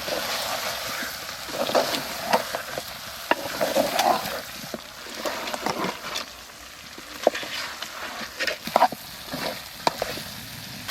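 Chicken curry meat and potatoes frying in a pot in a rural home kitchen, a continuous sizzle broken by repeated scraping stirs and clattering spoon knocks, close and fairly loud.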